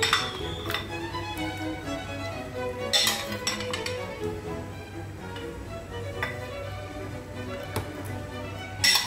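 Tofu goes into a pot of simmering chive soup with nearly cooked meat. Clinks and taps of utensils against the pot repeat irregularly over a low bubbling hum.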